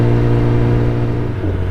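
Kawasaki ZX10R motorcycle cruising on a road in Tamil Nadu, its loud steady engine drone and wind rush held close throughout, with no speech.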